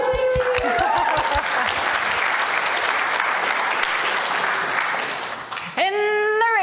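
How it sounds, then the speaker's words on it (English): A conference audience at a security event in New Zealand bursts into loud, dense applause that holds steady for several seconds, with cheering voices over it and a person speaking at the start and end. "Applause, thank you."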